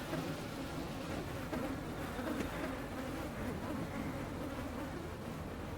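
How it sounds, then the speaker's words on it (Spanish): Flies buzz steadily in the horror video game Spirit Hunter: Death Mark II, a faint, continuous droning hum with no speech over it. "¿oís las moscas de la muerte?"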